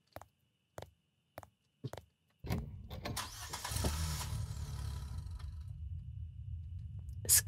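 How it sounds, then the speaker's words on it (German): A video game car engine turns over after a few sharp clicks, then chugs and rumbles unevenly as it labours and stalls, fairly loud and alone, in the street-cleaning game Cleaning Redville. "Es klingt wie ein Wagen, der absäuft."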